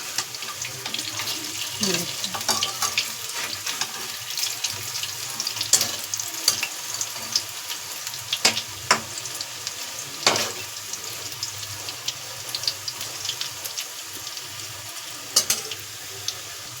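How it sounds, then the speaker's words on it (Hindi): Rolled taro leaf (arbi patta) rolls roasting slowly over low heat in a pan, giving a soft, continuous sizzle broken by scattered crackles and occasional clinks, fairly quiet and close. "इनको ऐसे ही सेक लेना है धीरे आंच पे"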